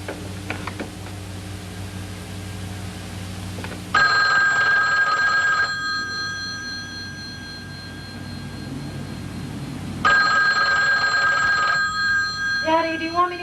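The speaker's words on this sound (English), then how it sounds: "Daddy, do you want me to answer the phone?" A telephone bell rings in bursts in a 1981 CBS television drama, two loud electronic rings separated by a pause, with music and room tone beneath.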